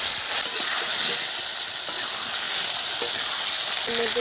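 Onion and potato fry in hot oil with cumin, a loud, continuous close-up sizzle with faint stirring scrapes, and no talking.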